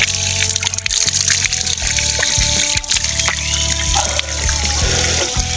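Water pours and trickles continuously while a vessel is being filled, with a steady broadband rush and no pauses, recorded close and fairly loud.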